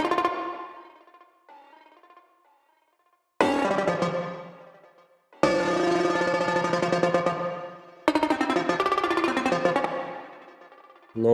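Hard lead sample recorded from a Moog DFAM: a soft tonal phrase, then three bright, buzzy sustained synth stabs. Each stab starts abruptly and rings for a couple of seconds, loud and up front with no voices.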